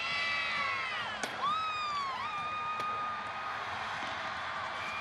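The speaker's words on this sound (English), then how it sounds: "Is that the families we hear up above you, Ramon, through your microphone, yes, cheering?" High, pitched whoops and screams from players' wives and girlfriends cheering in the stands at a Chicago White Sox vs Oakland Athletics Wild Card playoff game. The shouts rise and fall over a constant crowd roar, heard from a short distance.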